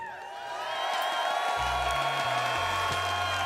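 A large crowd at the Six Invitational 2023 esports event cheers and roars steadily, loud and sustained, with low music tones underneath.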